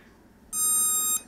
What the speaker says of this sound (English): is a long beep, and two long beeps, then a beep, then a beep, beep.